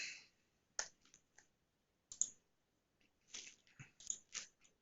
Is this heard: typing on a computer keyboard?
yes